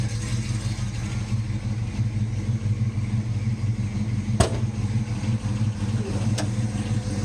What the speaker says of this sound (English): So car sounds great.